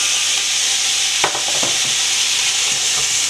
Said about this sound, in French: je vais les faire revenir un petit peu avant d'ajouter l'huile pour les faire frire un peu.